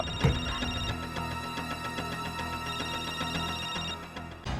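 A telephone rings on unanswered, its faint repeating ring pulsing steadily over a dense background.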